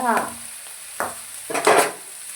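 Tomatoes are stirred into a sizzling clam roast in a pan, with several scraping strokes of a spoon against the metal over a continuous close frying hiss.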